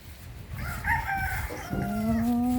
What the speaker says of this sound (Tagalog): May farm ng mga manok dito